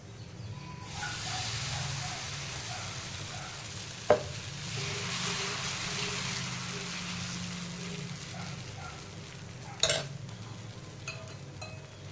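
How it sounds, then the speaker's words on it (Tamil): Kodo millet dosa batter spreads across a hot griddle with a steady, close sizzle and hiss, broken by two sharp clinks of a utensil against the pan. "கல் நல்லா சூடாகிடுச்சு இப்போ தோசை வார்த்துக்கலாம்"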